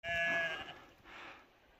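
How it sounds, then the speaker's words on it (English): Sheep on a mountain path in Snowdonia, Wales, give a loud, close bleat followed by a second, fainter bleat, with no talking over them. "There's a few sheep in the path."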